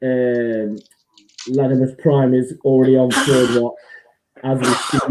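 A single sharp sneeze bursts out between stretches of a man's speech on a football talk show, a brief noisy blast set against the steady voiced talk.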